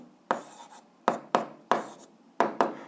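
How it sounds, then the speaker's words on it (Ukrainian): Pen or pencil writing the answer to an algebra exercise on paper, a handful of distinct scratchy strokes at an uneven pace, close and clear with no talking. "записуємо відповідь, пишемо відповідь"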